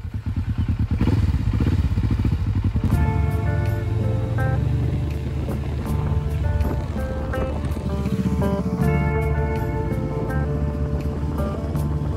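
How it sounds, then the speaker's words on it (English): A new Kawasaki Vulcan motorcycle rides up close and loud, its engine rumbling and climbing in pitch as it revs, then settling into a steady throaty drone. "picked me up on his flashy new Kawasaki Vulcan"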